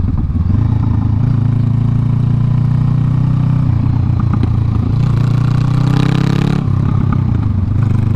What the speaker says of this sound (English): I like the pops. I like the backy fire.